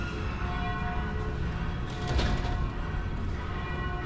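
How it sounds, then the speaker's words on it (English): Church bells ring across a city at noon, faint and distant, under a steady wash of background noise, with one brief louder swell midway and no voices. "It is noontime right now and all the bells are ringing across the city"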